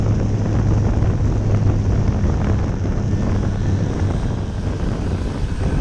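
Steady engine drone of an RC J3 Cub model airplane under throttle during a touch-and-go approach, heard outdoors at a distance beneath continuous wind noise on the microphone.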